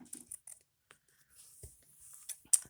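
Scissors snipping through fabric for a handmade fabric washi tape craft, a few quiet close crisp cuts and rustles with pauses between.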